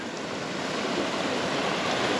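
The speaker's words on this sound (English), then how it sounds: "It's lovely by the river here." A river in the Peak District flows steadily in autumn, a close, constant broadband rush of moving water with no pauses and no voices.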